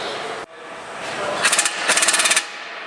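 A power tool rattles off a 24 mm strut nut on a Ford Edge from the 2007–2014 range, with a rising whir and two quick bursts of hammering impacts, loud and close, no talk.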